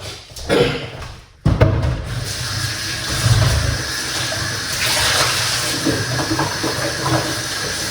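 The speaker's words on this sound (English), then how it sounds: "let's wash out this apple" Tap water runs steadily over an apple being washed for a green smoothie, a continuous close hiss with a brief handling break near the start.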